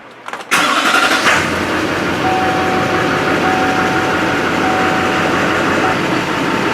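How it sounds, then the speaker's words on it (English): A large truck engine cranks and fires up at once, then settles into a loud, steady rumbling idle that continues throughout. "I'm going to start this truck and let's just see what happens here. It's going to be loud."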